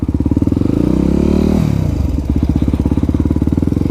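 A 2009 Yamaha WR250X motorcycle engine revs up close and loud, its pulsing thump climbing in pitch before dropping back to a rapid, rhythmic idle.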